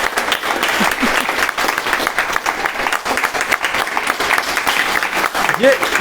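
A seated audience at a therapy gathering claps loudly and continuously, a dense, even wash of hands with brief voices rising above it.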